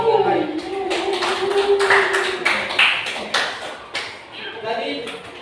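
Students in a junior high classroom clap for a classmate, a loose round of hand claps running under a teacher's voice and chatter, tapering off toward the end.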